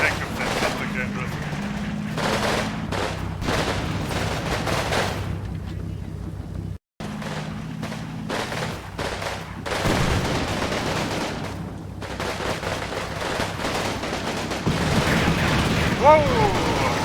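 A flak vehicle firing in the World War II game Combat Mission Fire and Rubble, dense repeated cannon bursts with rumbling explosions and battle noise, mostly continuous with a brief cut, while someone talks over it.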